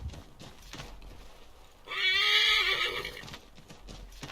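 Horse in Assassin's Creed III whinnying loudly and close for about a second, with clip-clop hoofbeats and faint game ambience before and after.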